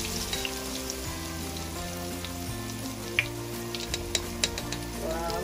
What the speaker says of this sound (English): we're going to just fry them 3 to 4 minutes